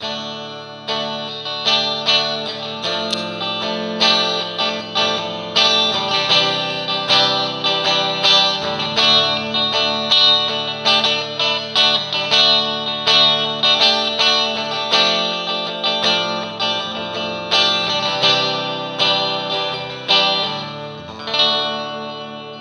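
A Harley Benton electric guitar is played through effects: loud, heavily processed notes and chords with chorus-like shimmer and distortion in a continuous rhythmic passage, no voices.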